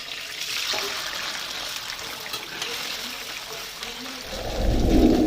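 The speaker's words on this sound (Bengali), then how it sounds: "তো তেলটা গরম হয়ে গেছে, এবার আমি পনিরগুলোকে একটু ভেজে নেবো।" Paneer frying in hot oil for a dish made with prawns and milk, a steady hiss of crackling oil that turns louder and fuller near the end as the pieces go in.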